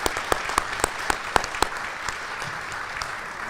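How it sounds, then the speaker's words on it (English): Luncheon audience applauding a scholarship winner at a Pan American Day awards event: scattered claps with a few sharp, close hand strikes standing out over softer clapping, brief and fairly light. "give him an applause that he didn't hear last year"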